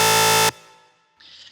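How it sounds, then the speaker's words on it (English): Dubstep-style womp bass synth patch built in Reason, a loud, dense buzzing tone held for about half a second and cut off sharply, followed by a fading tail and a brief fainter hiss. "how to make a cool dubstep bass sounding synth"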